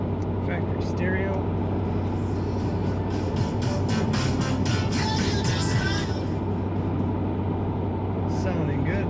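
A 1995 Chevrolet Tahoe LS 4x4 engine runs at a steady, smooth idle up close, its low rumble continuing under a voice talking throughout.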